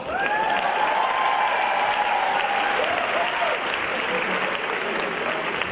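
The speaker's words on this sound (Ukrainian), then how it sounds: "Оплески Святославу!" A comedy league final audience breaks into loud, continuous applause with some cheering mixed in, a thick wall of clapping sustained evenly from start to finish.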